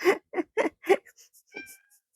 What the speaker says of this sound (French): Il est pas bien, ce chat.